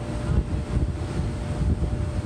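Steady wind rumbles and buffets against the microphone aboard a 2019 Fountain 39NX boat, a continuous low roar with no voices.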